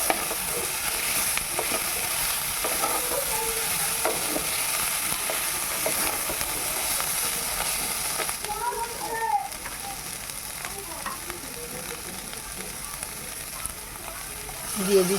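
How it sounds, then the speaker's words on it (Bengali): Ginger paste fries in a pan of oil for a jackfruit curry, producing a dense, continuous sizzle that stays loud and even, with occasional stirring scrapes partway through. "আদাটাকে দিয়ে আমি আর একটু ভালো করে ভেজে নিচ্ছি তাহলে আদার কাঁচা গন্ধ চলে যাবে"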